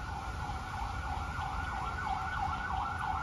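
An ambulance siren wails in a steady, repeating warble near the Wat Borom Phuttharam temple grounds in Ayutthaya, Thailand. It sounds moderately distant and holds a constant level with no talk over it.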